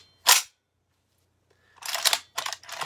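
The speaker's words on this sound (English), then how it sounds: "Last round bolt open" A rifle bolt locking open after the last round makes a sharp metallic clack, followed after a pause by a pair of quick mechanical clicks and rattles, close and distinct against near silence.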